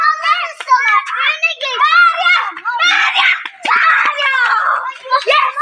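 Children shout and cheer loudly and continuously during a running race, their high excited voices overlapping in screams and calls close by.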